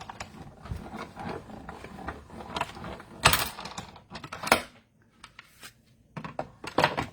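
A handmade card runs through a crafting embossing machine, giving off a series of irregular mechanical clunks and thuds. The louder knocks come in short bursts, with a brief pause near the end before a few more sharp thumps.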